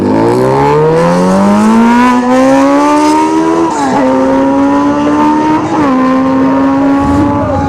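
A Honda CBR 1000 motorcycle accelerates hard down the drag strip at ShowTime Dragstrip, its engine note climbing loudly and dropping briefly at two quick gear shifts before rising again.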